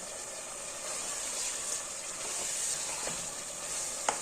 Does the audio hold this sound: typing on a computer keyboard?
no